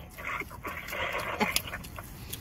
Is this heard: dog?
yes